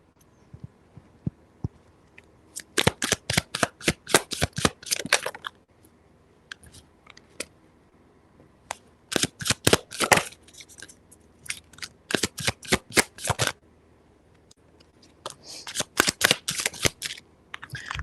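Oracle cards are shuffled by hand for a reading in repeated rapid bursts of crisp riffling and flicking, close and fairly loud, separated by short quiet pauses, with no talking.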